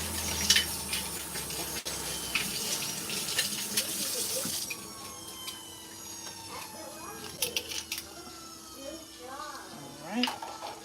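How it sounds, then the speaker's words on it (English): Tap water runs into a sink to rinse out mason jars, splashing loudly and close for several seconds before dropping to a softer trickle, with a voice murmuring underneath. "wash out the mason jars."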